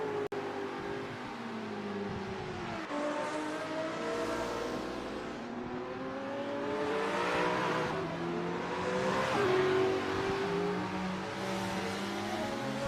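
A Group C race car engine screams continuously around a racing game track, pitch rising and falling through gear changes and corners, loud and steady throughout with no talk.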